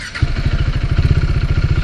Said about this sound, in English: So let me start the bike now.